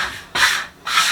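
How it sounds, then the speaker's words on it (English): Scraper dragging across sweet pastry dough in two close, rough scraping strokes separated by a brief pause, with no talking. "Just grab a scraper."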